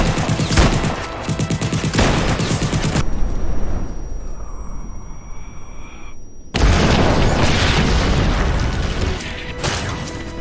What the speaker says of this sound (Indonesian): Lalu terjadilah aksi tembak-tembakan antara mereka dengan pihak musuh.